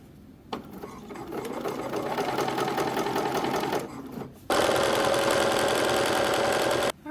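Sewing machine stitching a double-sided baby blanket, a steady close whirring hum running for several seconds, a brief pause as the needle turns a corner, then a louder, faster continuous run.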